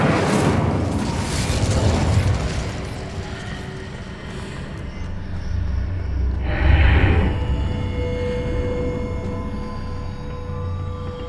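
Fire spell cast in Hogwarts Legacy, a sharp whooshing burst at the start that swells and fades, then a second fiery flare midway, over a low rumbling game ambience with no talking.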